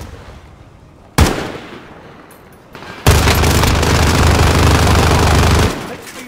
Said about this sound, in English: Tossing a thermite!